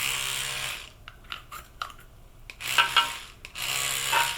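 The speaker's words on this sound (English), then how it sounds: "So I will just make some sprinkles with my toothbrush." Toothbrush bristles flicked to spatter colored cocoa butter sprinkles onto chocolate bonbon molds: a few long, raspy scrubbing bursts with quick short flicks between them, close and fairly loud, no talk.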